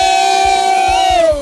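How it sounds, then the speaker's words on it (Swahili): A church congregation at a live Sunday worship service cheers, and a loud, sustained high ululating tone rises over the crowd, wavers, then glides downward near the end. "Wapi shangwe na vigelegele?"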